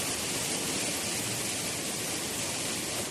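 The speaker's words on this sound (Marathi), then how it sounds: "एकदम मस्त असा छान असा पाऊस जोराचा सुरू झाला आहे" Heavy rain pours down in a steady, dense hiss, continuous and even throughout, with no voices.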